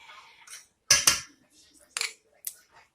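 A spoon stirs catfish cake mixture in a bowl, making a few short, close scraping and clinking strokes with quiet pauses between them and no speech.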